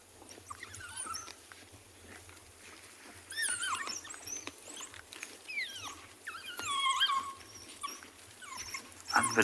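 A wild dog pack at a fresh steenbok kill on a sunset safari in the Kalahari, giving high twittering squeals and chirps that rise and overlap in excited bursts over a low vehicle engine hum.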